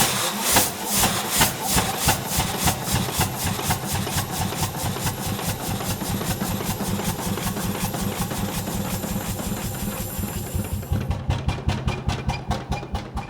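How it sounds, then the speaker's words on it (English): An old-fashioned steam locomotive chuffs in a steady, rapid rhythm with hissing steam, loud and close throughout, the beats slowing and spreading out near the end. "if you like the old-fashioned steam locomotive sound, you're gonna love this one"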